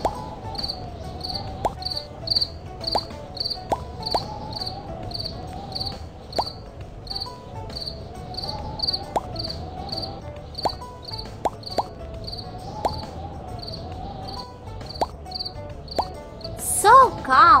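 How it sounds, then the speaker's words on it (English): Video-game crickets chirp in a steady repeating pulse over a soft electronic tone, with occasional clicks and a brief bright chime near the end. "Everybody's sleeping, but crickets disturb them."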